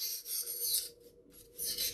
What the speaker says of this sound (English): take some sandpaper and give it a light sand, just to roughen up the surface for better glue joints